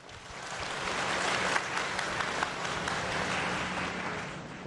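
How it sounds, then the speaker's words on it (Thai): Arena crowd applause greeting a boxer's ring introduction, a sustained wash of many hands clapping at a fairly even, moderate loudness throughout. "ขอเสียงปรบมือให้กับ พลังพล CP f e s h m a r t"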